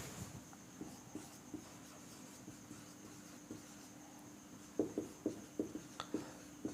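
Writing on a board during a grammar lesson: faint, scattered scratches at first, then a quick run of sharper, louder strokes near the end, in a quiet room.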